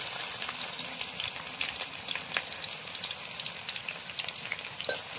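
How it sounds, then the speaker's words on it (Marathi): Garlic and onion sautéing in hot oil for a Malvani-style tender jackfruit curry, a dense, even crackling sizzle up close with faint stirring, no voices. "कांदा परतून घेऊया."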